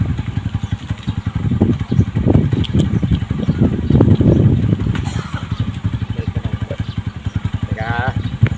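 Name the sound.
small water pump engine running after repair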